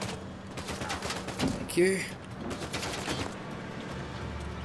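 Bursts of rapid gunfire rattle through an Uncharted 4 firefight, a dense fusillade of overlapping shots with one sharp louder crack, heard under a man's speech.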